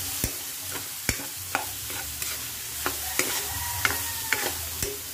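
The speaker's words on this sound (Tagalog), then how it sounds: "Haluin lang ulit natin. Igisa-igisa ulit." Papaitan, a beef tripe stew with black pepper, sautéing in a pan, a soft constant sizzle with sharp spoon knocks and scrapes about every half second as it is stirred.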